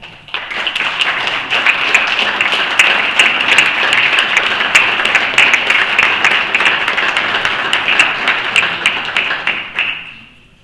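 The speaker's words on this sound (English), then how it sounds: "And I think they deserve our applause and credit." Sustained applause from a crowd, dense and even for about ten seconds before fading out at the end.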